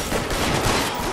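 Gunfire in the video game L.A. Noire, a dense, loud burst of shots packed into about a second with no pauses.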